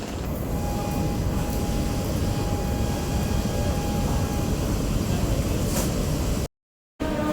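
Teesta Torsa Express pulling into Malda Town junction after a long run, a steady loud rumble of the train with a thin whining tone, continuous throughout, with no voices, briefly cut out near the end.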